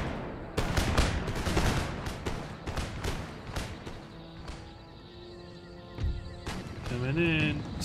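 Musket volleys from fusiliers in Empire: Total War, a real-time battle game: repeated sharp crackling volleys, strongest early, under a speaking voice with background battle noise.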